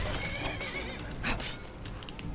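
A horse in the video game Skyrim whinnies and neighs loudly over continuous game ambience, with faint hoof clip-clops beneath.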